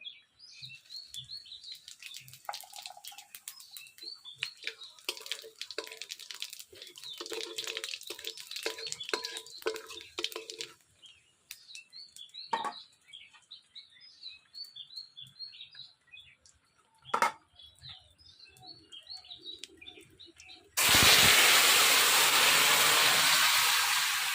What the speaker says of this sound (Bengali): ফোড়নে জিরে দিয়ে দেবো